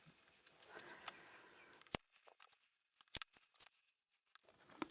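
Scissors cut scrap fabric for a small sewn coin pouch, a series of sharp, close snips in irregular bursts with quiet pauses between them.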